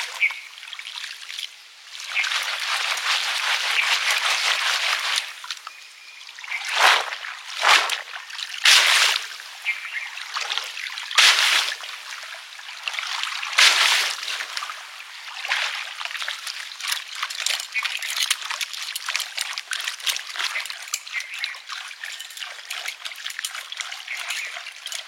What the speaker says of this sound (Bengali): কাঁচা হলুদগুলো যে আমাদের বাগান থেকে খোলা হয়েছিল, সেগুলো আজকে এই যে পরিষ্কার করছি ধুয়ে